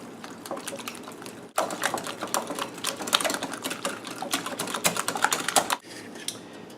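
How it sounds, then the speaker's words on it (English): Eggs and vanilla extract are whisked together in a bowl for lemon pound cake batter, giving a fast, steady clicking of the whisk against the bowl for about four seconds, with quieter stretches before and after. "Whisk all those together."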